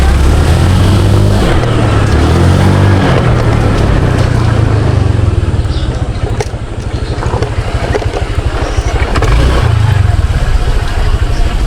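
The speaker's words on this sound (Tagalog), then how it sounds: "Napasok ko lang yung motor." A motorcycle engine idles steadily and loudly up close after being ridden in, a continuous low rumble with a slight dip in the middle, and no voices over it.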